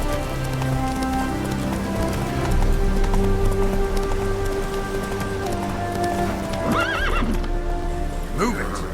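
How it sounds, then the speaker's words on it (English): Horse galloping in The Witcher 3 with close, rhythmic hoofbeats over rain and a game soundtrack, and a loud neigh near the end; someone speaks briefly. "Run, Roach."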